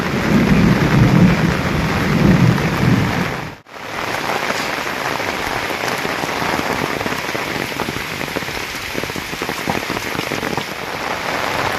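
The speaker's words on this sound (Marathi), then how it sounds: "मुसलधार कोसलदार पाऊस आणि एकदम अवकाळी पाऊस पडतोय" Heavy unseasonal May rain pours down steadily and loudly, a dense hiss that barely pauses, with rumbling thunder mixed into the downpour.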